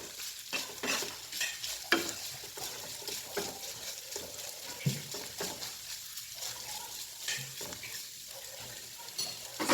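Ground pork fries in a pan under steady stirring, a faint continuous sizzle punctuated by repeated spoon scrapes and taps, with no talking.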